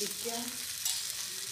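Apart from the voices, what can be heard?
paratha roasting on a griddle with oil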